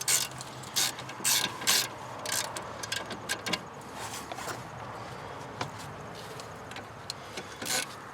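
A ratchet breaks loose the front brake caliper bolts on a Santa Fe Sport in a brake replacement, giving close, fast pawl clicking in several short bursts with pauses between, and no talk.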